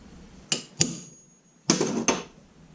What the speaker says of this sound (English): What I'll do is I'll punch it too right here.